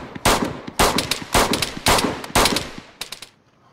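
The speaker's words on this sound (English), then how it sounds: "I just put 3 bullets in him" Gunfire in an arcade-style shooting video game rings out in five loud, evenly spaced bursts followed by a couple of quicker shots, each sharp and booming with a short decaying tail.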